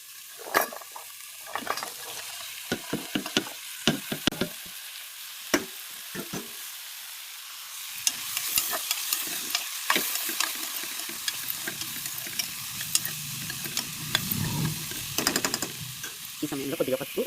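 Potato and tomato pieces frying in a pan, with a spoon scraping and stirring in sharp intermittent clicks, then a steadier sizzle building later; a voice talks faintly in the background.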